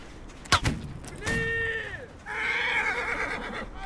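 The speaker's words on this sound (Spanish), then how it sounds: "¿Dónde está el caballo? ¿Caballo nuestro o caballo suyo?" A horse neighs twice in the Napoleonic-era multiplayer game Holdfast, with a sharp thump first, then a rising whinny followed by a longer, brighter neigh that carries to the end, fairly close and clear.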